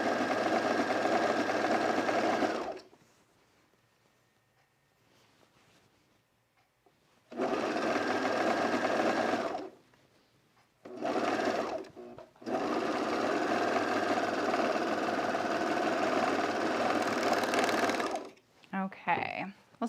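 A sewing machine stitches pajama pants in loud, steady bursts: a long run, a pause of near silence, then two more runs broken by a short stop, with a brief rattle at the end.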